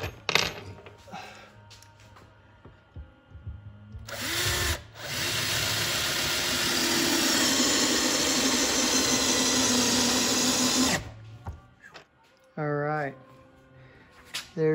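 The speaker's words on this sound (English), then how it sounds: "I'll go ahead and put some screws in this and screw it down to the bench." A power driver drives screws to fasten a restored Morgan No. 345 swivel jaw vise to a workbench: a steady, close whirring run lasting about six seconds, framed by short bursts and quiet handling noises.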